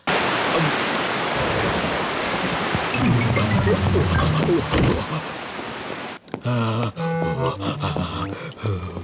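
Steady hissing rain falls in a Peppa Pig cartoon scene, loud and continuous for about six seconds under faint voices, then cuts off abruptly and gives way to talking characters.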